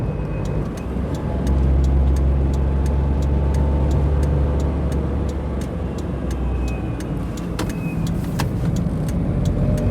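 A Perodua Kenari car carrying four people labours up a very steep hill, its small engine droning steadily and loudly from inside the cabin with a constant low rumble and no talking.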